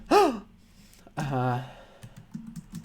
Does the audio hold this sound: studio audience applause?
no